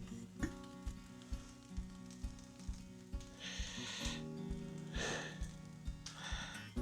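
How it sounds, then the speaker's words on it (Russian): Egg fried rice with sesame oil sizzles in a pan, a steady crackling fry with bursts of louder hissing as it is stirred, fairly quiet, and steady rhythmic tapping runs under it. "рис у меня хорошо здесь жарится"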